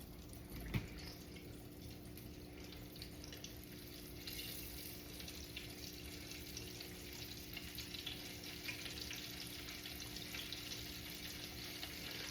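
Steady, faint crackling sizzle of chicken deep frying in hot oil, continuous with no talking.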